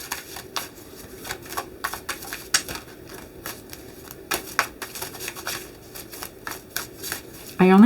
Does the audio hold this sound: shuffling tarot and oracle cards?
yes